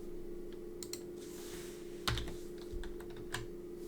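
Computer keyboard typing during coding, a close run of irregular light key clicks with a couple of firmer taps, over a steady electrical hum and no talking.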